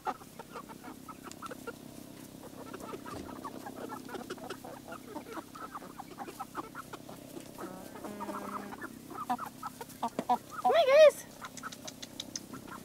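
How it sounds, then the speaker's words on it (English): Large Bielefelder chickens cluck and murmur in a homestead yard alongside young birds, soft intermittent calls building to a louder burst of squawking near the end. "Look at that Bielefelder rooster right there."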